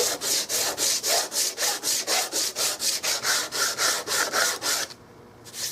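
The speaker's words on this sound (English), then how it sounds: "I'm going to flip it back on this side where I can rough sand this side." A 50 grit sanding block rough-sands wood in rapid, even back-and-forth strokes, about seventeen loud rasping passes close by, then a pause and one faint stroke.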